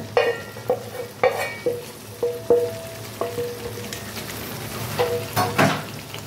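Fried chicken pieces sauté in a pan for methi butter chicken, with a steady sizzle broken by repeated sharp clinks and scrapes of a spatula stirring against the metal.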